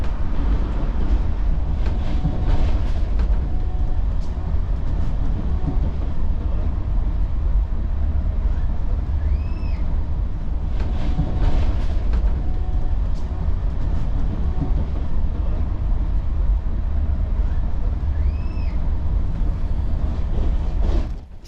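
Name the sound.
Tejas Rajdhani sleeper train running, heard from inside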